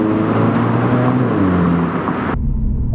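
A 2025 MINI Cooper S driving, its engine a steady close hum with road noise throughout that cuts off abruptly near the end.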